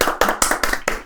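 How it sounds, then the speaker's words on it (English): Several sharp, close hand claps in a quick rhythmic series, about five distinct bursts within a second, sounding like a small group clapping in unison. "Applause."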